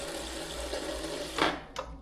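Water pours from a kitchen sink tap in a steady hiss and rush that lasts most of the moment, broken near the end by a couple of brief louder splashes as it stops.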